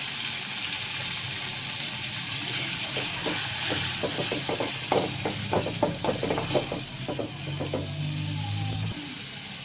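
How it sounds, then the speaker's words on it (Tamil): Goat spleen with ginger and garlic sautéing in hot oil, a steady close sizzle and hiss with a run of soft rhythmic knocks and stirring scrapes in the middle, no talk. "கொஞ்சம் நல்லா எண்ணெயிலே வதக்கி விடுங்க."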